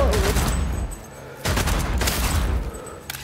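Rapid gunfire erupts in close, loud bursts in Cyberpunk 2077 Phantom Liberty, two dense volleys split by a brief lull, with a voice shouting in between.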